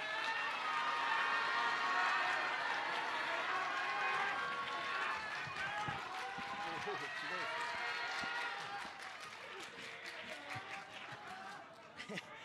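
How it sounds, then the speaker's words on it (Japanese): An audience at a boat racing venue applauds to welcome a race winner, sustained crowd clapping with cheers, steady and fairly loud, thinning toward the end with a few separate claps. "大きな拍手を持ってお迎えください。"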